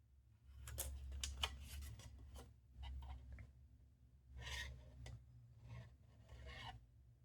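Long straight scissors cutting a paper border for an Estes Blue Origin New Glenn model rocket, quiet close rasping snips in irregular clusters with short pauses between.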